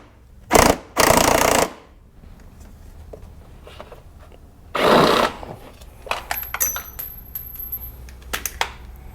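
Bolts on the battery tray of a Jeep Gladiator's auxiliary battery being loosened and removed with a power tool, two loud bursts near the start and another midway, followed by scattered metallic clicks and taps.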